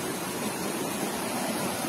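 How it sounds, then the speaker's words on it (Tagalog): Pangabitkabiton Falls in San Jose, Jamindan, Capiz, a waterfall of clear water giving a steady, dense rush of falling water that fills the whole two seconds evenly, with no voices over it. "At yan na nga, tanaw na natin yung Pangabitkabiton Falls."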